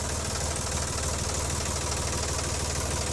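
A Sonalika 42 tractor's diesel engine runs steadily nearby, a loud, even, low chugging idle with a dense, unbroken knock that holds the same pace throughout.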